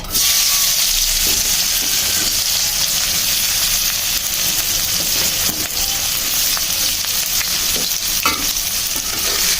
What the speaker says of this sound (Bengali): পেঁয়াজগুলো দিয়ে সুন্দর করে ভেজে নিব